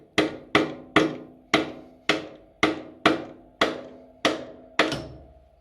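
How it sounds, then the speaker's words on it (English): A hammer lightly taps a drill press chuck about eleven times in a steady rhythm, each ringing metal strike decaying quickly in a quiet setting. "I had to grab my hammer. Then just give it a little tap."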